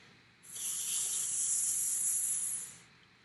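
A voice imitates a lawn sprinkler that gives a steady, whispering spray: one unbroken, airy hiss lasting over two seconds, soft and close, with a smooth start and fade.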